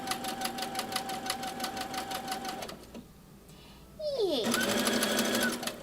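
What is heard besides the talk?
sewing machine stitching a dress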